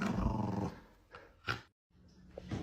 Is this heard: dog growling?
yes